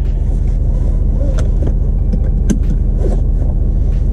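A diesel truck fitted with a BD Diesel throttle sensitivity booster drives along, its engine rumbling low and constant inside the cab with steady road noise and a few faint clicks.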